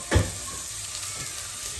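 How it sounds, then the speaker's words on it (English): Onions sizzle steadily in a hot pan, a soft continuous crackling hiss with a brief clunk at the start. "you can hear that sizzling away"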